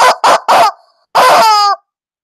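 A chicken gives three quick clucks in a row, then a longer drawn-out call after a short pause, loud and close with nothing else around.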